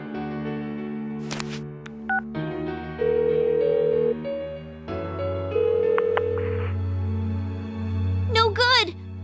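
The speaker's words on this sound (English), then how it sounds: "Give her another call." Phone dialing a call in Persona 4 Golden: a run of steady electronic beeping tones in short held segments, layered over a low sustained musical drone, with a few brief sharp effects near the start and end.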